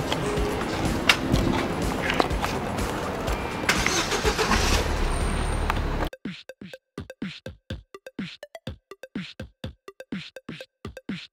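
A car drives along a road on a hot day in Vermont, producing a steady broadband rumble of engine and road noise for about six seconds before it cuts off abruptly.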